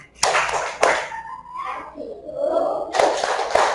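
A group claps in sharp bursts, a couple of single claps followed by a quick run of claps, with voices chanting in between.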